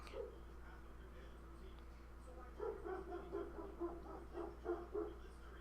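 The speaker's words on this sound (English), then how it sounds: "why won't my dog stop barking?" A dog barks repeatedly in the background, in short bursts that come and go behind steady game music and ambient sound.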